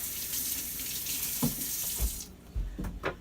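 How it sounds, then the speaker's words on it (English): Tap water runs steadily into a sink while dirty celery is washed, a close hissing stream that cuts off partway through, followed by a few soft knocks and handling sounds. "the celery's kind of dirty, so we're going to wash it real quick."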